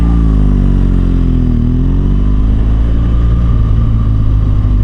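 BMW R1200GS Adventure motorcycle with about 13,000 km, its boxer engine droning loud and close in a steady low rumble, the pitch dipping briefly then holding even throughout.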